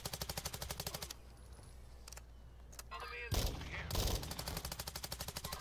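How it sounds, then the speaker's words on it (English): Rapid automatic gunfire in Call of Duty Warzone, with bursts of evenly spaced shots at the start and end and a few heavier blasts in the middle. "Gotta shoot right now."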